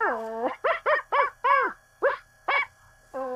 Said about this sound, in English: Those are very obviously stock dog sounds.